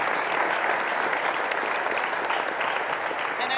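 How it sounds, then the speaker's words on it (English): A seated audience at a business school symposium panel claps steadily for the speakers, a dense, even wash of applause filling the hall from start to finish. "Another round of applause for our speakers."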